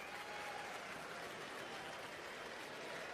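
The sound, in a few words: baseball fans standing and clapping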